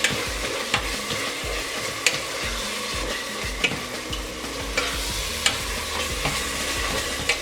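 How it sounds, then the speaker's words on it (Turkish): Ground beef mince fries in a pan, a dense continuous sizzle close by with a spatula scraping and knocking against the pan at regular intervals. "Kıyma kavruldu arkadaşlar"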